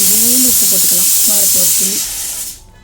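A pot of rice and jaggery for sweet pongal hisses steadily at a loud boil, with a voice speaking over the first part before the steam sound fades out.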